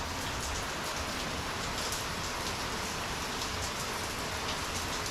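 Heavy rain pours steadily outside a garage, a dense continuous hiss of drops striking surfaces that stays loud and unbroken throughout with no voices.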